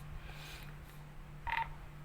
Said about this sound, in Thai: เร่งเสียงแจ้งเตือนให้มันดังหน่อย